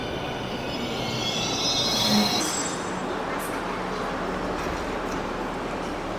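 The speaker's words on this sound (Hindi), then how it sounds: "मेट्रो आ गई है।" A Delhi Metro train rolls into a station with a steady rumble and a faint high squeal of wheels as it slows nearby.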